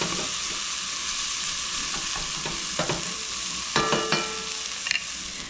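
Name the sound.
corn frying and charring in a pot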